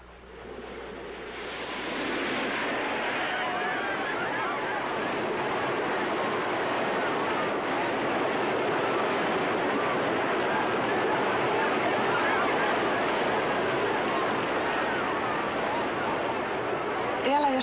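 A giant artificial wave surges through Big Surf, a desert wave pool in Arizona packed with about 3,000 bathers. A loud, steady rushing roar builds over the first two seconds and then holds unbroken to the end.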